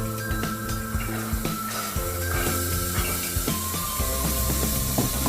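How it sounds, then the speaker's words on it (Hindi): Soaked kidney beans poured into hot masala of chili paste cooking for rajma, giving sizzling hiss and spattering with clinks and knocks from utensils, close and steady with no talking. "अब हम इसमें डालेंगे ये भीगे हुए राजमा"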